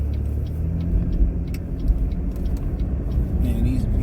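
Cars driving past on a road, a continuous low rumble of engines and tyres with traffic passing close by and no voices.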